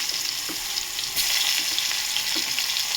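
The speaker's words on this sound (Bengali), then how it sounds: "পেঁয়াজটা বাদামি কালার করে ফিরছি।" Steady, bright sizzle of onions frying in hot oil, continuous and close, with a few faint clinks of a utensil against the pan.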